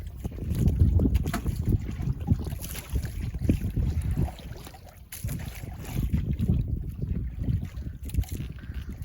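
Strong southwest monsoon wind buffets a boat on rough, choppy water, with loud gusty rumble and wind noise on the microphone running continuously, dipping briefly midway before building again.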